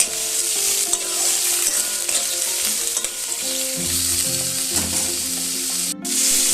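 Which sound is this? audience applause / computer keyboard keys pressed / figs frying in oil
figs frying in oil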